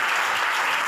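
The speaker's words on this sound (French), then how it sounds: "Dépose la Bible et acclame Jésus" A church congregation at an international missionary convention applauds and acclaims Jesus in a dense, sustained wash of clapping from many hands, filling the whole moment without a break.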